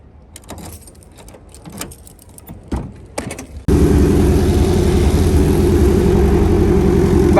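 A turbocharged Honda Civic running E85 fires up halfway after some quiet shuffling and clicks, then settles into a loud, steady, close idle.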